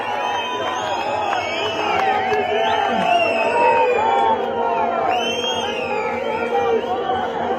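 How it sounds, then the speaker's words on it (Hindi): A large crowd at a Congress party political rally in India cheers and shouts in a steady, loud roar, with whoops and an announcer's amplified voice mixed in. "जोरदार तालियों से स्वागत करें"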